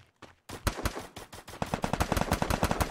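Rapid bursts of gunfire in the Free Fire battle royale game, loud and close, building into dense automatic volleys with no talking.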